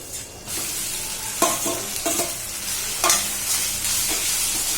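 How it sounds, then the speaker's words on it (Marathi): Rice sizzles and crackles in a pan with butter, green chillies, whole spices and black raisins as it is stirred, making steady frying noise with a few scraping strokes of a spoon, close up and with no talking. "थोडंच परतून घ्यायचं आणि आपण हा राईस घालायचा आहे"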